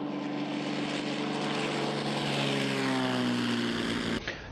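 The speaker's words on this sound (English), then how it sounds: "China has taken this newly developed drone on a test flight in the northwest province of Gansu." The propeller engine of a Rainbow 5 drone roars on a pre-dawn test flight from a runway in Gansu, a loud, steady humming drone with a slowly shifting pitch that cuts off abruptly near the end.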